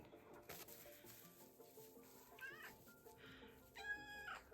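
Barn cats meowing several times in a row, fairly faint and close, over low background noise and without talk.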